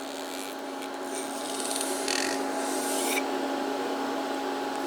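Cutting tool facing a surface and peeling off very thin, soft shavings, a steady humming drone under a rough rasping scrape that swells in the middle and then eases, with no voices.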